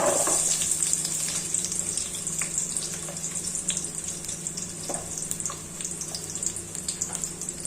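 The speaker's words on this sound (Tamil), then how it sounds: "ஆயில் நெய்யும் நல்லா சூடானதுக்கு அப்புறம் பொடி பொடியா நறுக்கி வச்ச வெங்காயத்தை சேர்த்துக்கிறேன்" Chopped onions fry in hot ghee with a steady sizzle, a constant hiss and occasional crackles, close and moderately loud, with no talking.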